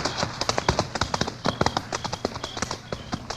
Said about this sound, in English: Come on, horse.